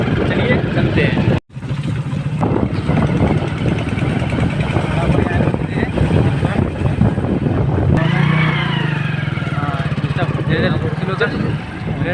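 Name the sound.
motorbike being ridden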